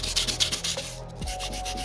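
Close, steady scratchy rubbing of 180-grit sandpaper worked by hand over a metal turbo housing, a continuous back-and-forth rasp with no voices.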